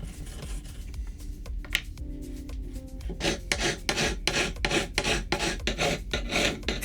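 A hand file rasps against a metal file blank in a steady run of rhythmic strokes, close and clear, with no talking.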